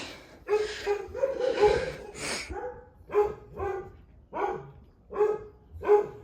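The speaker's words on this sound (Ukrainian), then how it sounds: "хорошая собака" A dog barks repeatedly at close range, a quick burst of yaps followed by single barks spaced about a second apart, with huffing breaths between.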